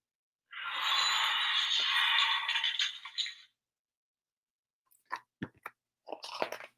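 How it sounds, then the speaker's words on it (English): A loud, dense crunching and chewing sound effect runs for about three seconds, followed after a pause by a few short, sharp crunchy bites. "anything or anyone anywhere near the river at any time was in danger of being crunched up by Charlie's mighty teeth."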